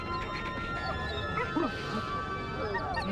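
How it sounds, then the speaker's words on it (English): A hunting dog in a comedic parody barks and whimpers in short yips over a steady, busy background, with the vocal sounds moderately loud and close. "You're the best hunting dog in the whole world, Smiley."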